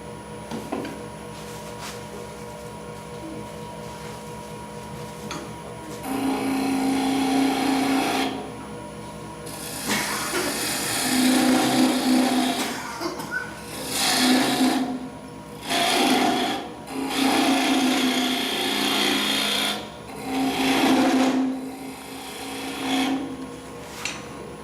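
A wood lathe turning a goblet, with a turning tool held against the spinning wood, giving a steady rasping scrape in repeated passes of several seconds each.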